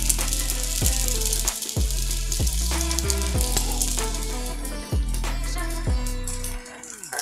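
A Kolkata-style Mughlai paratha set on a hot tawa sizzles and crackles steadily and close, with a few soft knocks and scrapes against the pan.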